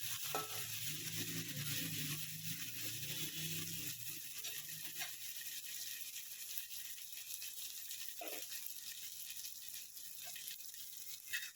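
Mint and coriander are stirred into onions and ginger-garlic paste frying in a pan, giving a steady close sizzle with scraping stirs and a few clinks of the spoon against the pan, no one talking.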